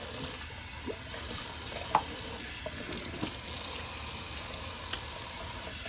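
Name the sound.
shaving brush rinsed under running tap water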